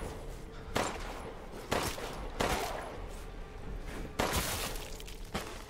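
Gunshots from firearms in the survival-horror video game Resident Evil Village, with five sharp, loud single shots spaced irregularly over a steady low game ambience and no talk.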